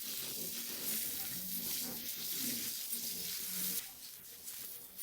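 Red onion frying in melted butter in a pan, a faint, even sizzle and hiss throughout with a few soft clicks, quieter toward the end.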